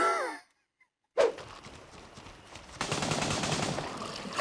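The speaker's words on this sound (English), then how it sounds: "Oh, don't be shooting at me." Gunfire in the video game Gray Zone Warfare during night operations: a short burst, a brief silence, then a sharp shot followed by a sustained rattle of rapid automatic fire, fairly loud and close.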